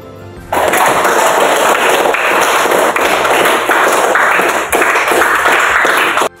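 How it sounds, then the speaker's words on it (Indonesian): Students in a classroom break into steady, dense applause after a class discussion; loud, close clapping starts abruptly, holds for about six seconds with slight dips, then stops. "marilah kita memberikan aplaus"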